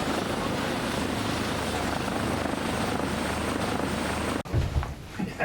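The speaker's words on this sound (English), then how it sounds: "A helicopter is approaching" A loud, steady helicopter roar at an offshore wind platform, rotor thrum dominating, cut off abruptly near the end by other noises.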